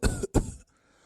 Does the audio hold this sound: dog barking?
no